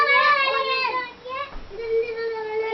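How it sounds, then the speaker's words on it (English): Children in the background make high, wavering vocal noises, with whimpering and crying-like tones that rise and fall over a few seconds at moderate loudness. "can hear my audience of children in the background."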